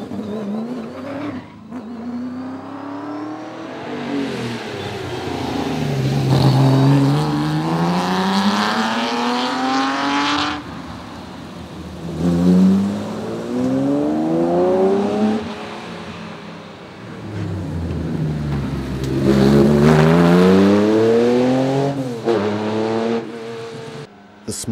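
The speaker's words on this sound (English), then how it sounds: "The best from classic marques such as MG, Lotus, Porsche, Shelby America, Aston Martin, Jaguar and Ferrari battle it out for honours" Classic sports cars from marques such as MG, Lotus, Porsche, Shelby, Aston Martin, Jaguar and Ferrari racing. Loud engines rise and fall in pitch through repeated revs and gear changes as cars pass close by, with no talk.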